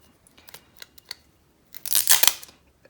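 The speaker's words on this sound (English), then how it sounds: "So I'm going to just put the tape across" Adhesive tape being pulled and pressed across paper on a DIY craft project, a few small crinkles and taps followed by a louder, longer crackling rip of tape near the end.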